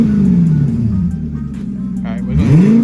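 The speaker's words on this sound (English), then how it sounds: "It sounds like a throaty V8." A V8 car engine in a welded-differential drift car rumbles and revs close by, a deep throaty drone that dips slightly then swells into a louder rev near the end, with a voice talking over it.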